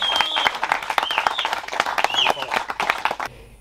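Audience applause for a performer at the Puch Maxi Ranch 2023 event, a dense round of clapping with voices and whoops mixed in, fairly loud and steady before cutting off near the end.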